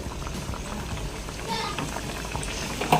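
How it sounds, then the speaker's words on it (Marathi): Kachori deep-frying in hot oil, a soft, steady bubbling fizz at moderate distance, with a few faint clinks near the end and no clear talk. "मी इकडं कचोरी तळायला घेतलेली आहे"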